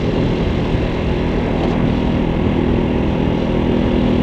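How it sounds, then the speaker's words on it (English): Continuous engine drone of a Halcyon 250 motorcycle while riding, a steady low hum blended with wind rush, holding an even pitch throughout. "So this little motorcycle gets about 70 miles to the gallon."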